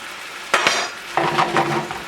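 Pork being flipped and stirred in a frying pan: two bursts of scraping utensil and clattering metal, close up, over a light sizzle.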